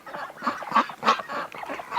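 Ducks in a flock resting in winter snow near a barn give repeated nasal quacks and honks, several overlapping calls in quick succession, close and fairly loud.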